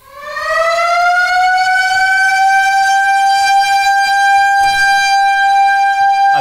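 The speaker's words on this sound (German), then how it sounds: "machen die Sirene an, holen die aus den Betten raus" A loud electronic siren winds up from a low pitch and holds a steady, piercing wail, sounding close and continuous with no talking.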